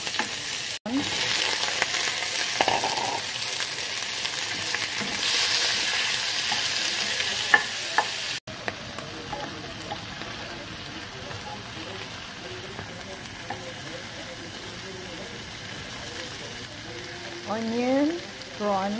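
Onion fries in olive oil with a steady, crackling sizzle, interrupted by a couple of brief cut-outs, while a person talks intermittently over it, most clearly near the end.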